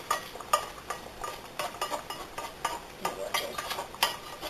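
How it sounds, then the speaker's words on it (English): Sautéed onions and bell peppers stirred into a Roma tomato Thai basil pasta sauce in a pot, with steady scraping and wet stirring strokes and a soft sizzle underneath. "I'm actually going to now add those into the sauce."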